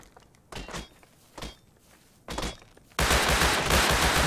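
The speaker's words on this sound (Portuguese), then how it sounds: "Quem tá atirando?" Gunfire in the survival video game Rust: a few separate muffled bursts of shots, then a loud dense stretch of rapid continuous firing.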